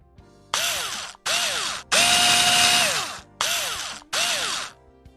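A power tool drives screws into the rear window lifter mechanism of an Alfa Romeo 159, running in five loud, close bursts: four short whirring runs plus one longer sustained one, each rising and winding down, with brief pauses between.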